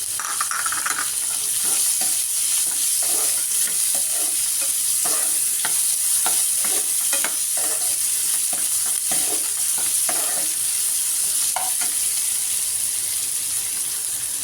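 Onions fry in a pan for a chickpea adai batter, a loud, constant sizzle broken by frequent rhythmic scrapes and knocks of a spoon stirring.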